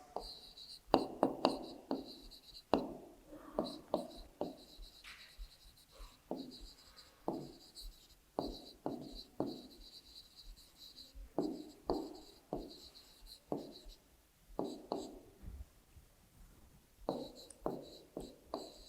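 Numbers written by hand for a third-grade subtraction lesson, pen strokes scratching in short close bursts with pauses between groups, a faint steady hiss behind.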